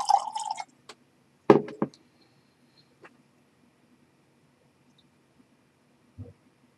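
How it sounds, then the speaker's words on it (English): Small splashes of water drip and trickle into a glass of Glenmorangie whisky in a few brief bursts, close and quiet, with near silence between them. "Let's see what adding a little water does."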